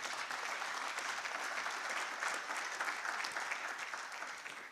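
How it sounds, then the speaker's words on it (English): An audience at a launch event for African vaccine production gives the President a sustained round of dense, even applause, steady throughout and tapering slightly at the end. "Let's give our President another round of applause."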